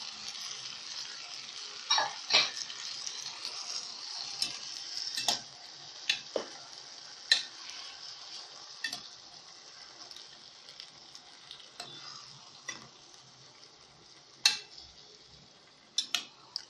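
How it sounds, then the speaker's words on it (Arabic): Tomatoes and tomato paste sizzle in a frying pan for a baked okra and meat stew, with a soft continuous fry and scattered sharp scrapes and clicks from stirring. "نبدا نقلب"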